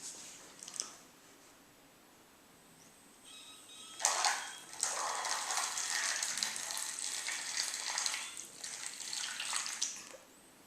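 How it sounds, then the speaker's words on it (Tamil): Water bubbling and spluttering out of a straw as air is blown through a second straw, bursting in after a quiet start and continuing as a steady gurgling spray for several seconds, close and fairly faint. "இந்த மாதிரி தண்ணி வருது."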